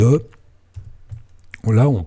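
A keyboard shortcut pressed on a computer keyboard while switching window layouts in Hyprland on Arch Linux. A few soft, quick key clicks fall between stretches of nearby talking.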